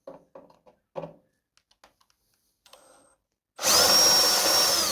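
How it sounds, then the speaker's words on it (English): A power drill bores into the metal base of a carburetor stand, starting abruptly after a few light taps and handling clicks and then running as a loud, steady high-pitched whine right up close. "So I'm going to drill this here out and separate it from the"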